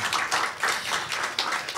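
A small group of people claps steadily in a room, a dense run of hand claps with slight swells in rhythm, fairly close and loud, with no talk over it.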